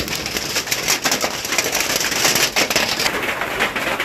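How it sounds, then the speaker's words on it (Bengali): Heavy rain pours steadily outside a home kitchen, a dense, unbroken hiss and patter with sharper droplet hits, moderately loud and with no talk. "বৃষ্টির অনেক শব্দ"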